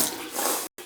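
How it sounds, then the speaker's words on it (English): Water rushes from a tap in a winterized summer cottage as it is turned back on, a loud, close hiss that cuts off abruptly and then resumes. "I'm gonna turn the water back on."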